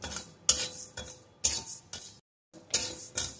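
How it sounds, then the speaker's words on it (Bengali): A tablespoon of Gobindobhog rice grains being fried and stirred in a hot pan, with rhythmic scraping strokes of a spoon against the metal in short bursts, a brief pause midway, and a light sizzle underneath. "এখন এই চালটা অল্প আছে কিছুক্ষণ ভেজে নেব।"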